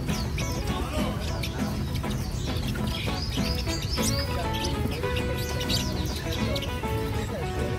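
Caged songbirds, red-tailed laughingthrushes among them, fill the Bưởi bird market in Hanoi with dense, continuous chirping and whistling, plus occasional clucking, at steady volume throughout.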